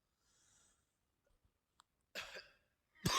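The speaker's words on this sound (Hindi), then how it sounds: "माफ करिएगा, थोड़ा सा खांसी जुकाम है।" A man with a cold coughs a couple of times, short quiet-room bursts separated by near silence, close and alone without speech.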